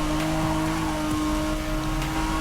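A race car engine in a video game at the Spa circuit, holding a steady loud droning tone with a slight whine across the whole short stretch and no voices.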